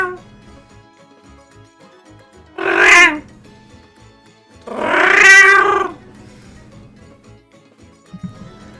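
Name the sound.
streamer imitating cat noises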